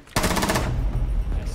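Rapid machine-gun fire bursts out loudly in a Rainbow Six Siege match, a dense, close stream of shots that rattles on for over a second after a brief quiet start.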